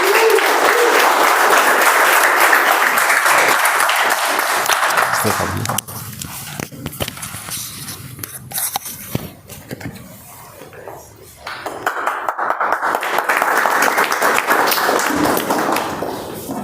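Audience applause at a Toastmasters club meeting welcomes the general evaluator, loud and sustained clapping for about six seconds, fading into scattered claps and murmurs, then a second strong burst of clapping swells up near the end.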